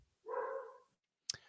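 A dog gives a single short bark, close and fairly quiet, followed by a brief click, in an otherwise near-silent room.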